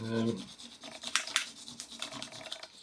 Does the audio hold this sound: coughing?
no